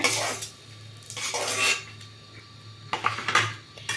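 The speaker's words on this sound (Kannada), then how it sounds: "ಮೊಟ್ಟೆ ಎಲ್ಲ ಫ್ರೈ ಆಯಿತು, ತೆಗಿತಾ ಇದ್ದೀನಿ ಪ್ಲೇಟ್ಗೆ" Fried eggs lifted out of a pan onto a plate, with a few close, clattering metal scrapes and clinks of the utensil against pan and plate in separate bursts, quiet pauses between.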